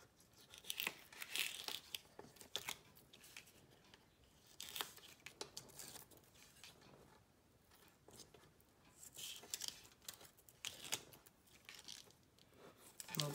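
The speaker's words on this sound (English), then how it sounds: "just with your pokey tool, taking off the backings off that double-sided tape" Dry, crackly tearing and peeling of backing strips from double-sided tape with a pointed paper-craft tool, in irregular bursts close by and fairly quiet.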